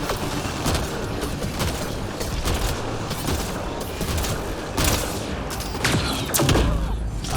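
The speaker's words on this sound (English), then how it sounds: "This gun is slow." Gunfire from a slow-firing gun in Mass Effect: Andromeda, loud separate shots and thuds spaced across a busy, dense combat din, with a few spoken words mixed in.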